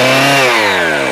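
A chainsaw cutting a fallen tree under load roars loud and close, its engine pitch sliding downward as the chain bites into the wood.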